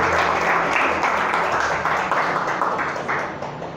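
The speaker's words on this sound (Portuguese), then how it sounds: "Você pode dar uma linda salva de palmas ao Senhor" Church congregation applauding the Lord, a dense steady wash of many hands clapping that fills the room and slowly fades toward the end.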